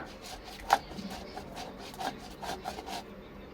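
Boiled jackfruit seeds being mixed and mashed for bharta, giving soft rubbing and scraping strokes with a few sharper taps, quiet and close, with no talk.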